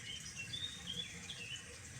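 Faint high chirps from birds call intermittently outdoors over a steady background hiss, with a soft trickle of water underneath.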